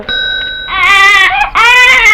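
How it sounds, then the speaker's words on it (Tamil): An infant wails in two loud, close bursts after a faint, thin opening cry, each rising and then falling, with no speech over it. "குழந்தையின் அழுகுரல் சத்தம்?"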